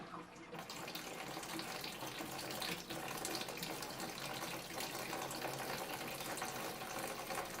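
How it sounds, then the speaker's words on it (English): An aquaponics pump pushes water from a fish tank through plumbing, a steady rushing, splashing flow like a running tap that stays constant and fairly close throughout, with no talk. "plug in the pump, and voila, water going through the pump."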